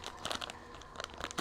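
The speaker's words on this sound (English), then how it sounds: "Open your package." A yeast package is torn open during pizza dough preparation, giving close, quick crinkling and ripping bursts of packaging with no talk.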